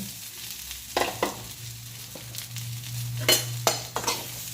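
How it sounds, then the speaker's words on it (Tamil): Pirandai is stir-fried with previously sautéed ingredients in a pan: a low, steady sizzle runs beneath repeated sharp scrapes and clanks of the spatula, roughly one every half second to second. "இது கூட ஆட் பண்ணிவிட்டு அதையும் ஒரு அரை நிமிஷத்துக்கு நல்லா பரட்டி விட்டுக்கலாம் மக்கள்"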